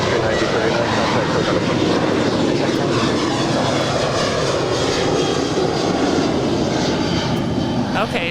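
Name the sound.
jet airliner landing at LAX runway 25 left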